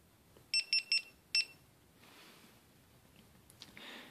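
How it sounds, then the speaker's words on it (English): A GoPro HERO4 Black camera powering on: a quick series of three high electronic beeps, then a fourth after a short pause, crisp and close in an otherwise quiet room. "You'll hear a series of beeps."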